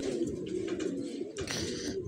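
A racing pigeon coos softly and repeatedly, each throaty call close and clear over a light background murmur.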